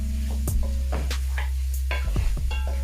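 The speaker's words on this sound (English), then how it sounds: "I'll keep stirring the oxtail like this for about 10 minutes." Oxtail being stirred and browned in a hot pan on high heat for Jamaican oxtail, with repeated scraping stirs over a steady sizzle, close and continuous.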